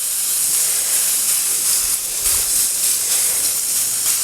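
Steak sizzling loudly on a Blackstone griddle just after being flipped, a steady close hiss of searing meat with no pauses, nobody speaking over it.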